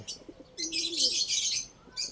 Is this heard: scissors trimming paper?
no